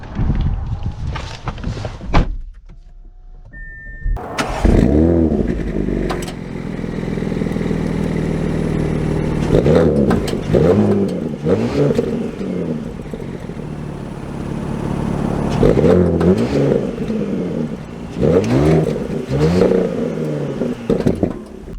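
A 2023 Audi S6 drives and accelerates, its engine note rising and falling in repeated revving surges over road and cabin noise, fairly close and steady across the drive.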